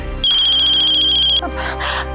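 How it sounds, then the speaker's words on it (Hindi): A loud electronic phone ringtone trills in a rapid repeating pattern for about a second, then cuts off as voices begin talking. "किसका फोन है?"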